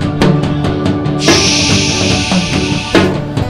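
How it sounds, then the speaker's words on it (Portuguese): Drums hit in a loose rhythm over a sustained bright hiss like a cymbal wash, with full, fairly loud percussive accents and no voices. "Os tambores estão tocando"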